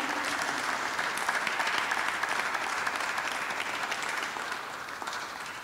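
Sustained audience clapping at a St Luke's lecture, a dense, even wash of many hands that stays strong and then eases slightly toward the end, with no voices over it.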